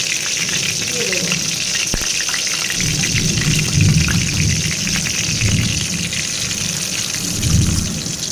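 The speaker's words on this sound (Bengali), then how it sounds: "এবারে এই কড়াতেই আমি আমার বানানো মশলাটা দিয়ে দেবো।" Homemade spice paste hits hot oil in a kadai with a steady, close, broadband sizzle that keeps going throughout, with low muffled clatter and faint talk now and then.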